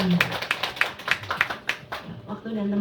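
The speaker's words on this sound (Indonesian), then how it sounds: "Boleh beri tepuk tangannya." An audience claps to welcome a speaker at a morning investment and stock-sharing session, a quick run of hand claps that fades into a voice talking over the hall's room tone.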